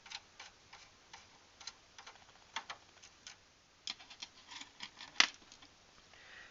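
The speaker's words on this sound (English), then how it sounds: "we're going to unscrew this one" A screw is undone inside a Dell Inspiron 3668 desktop with a magnetic-tipped screwdriver, producing faint, close, irregular ticks and small metallic clicks with one sharper snap near the end.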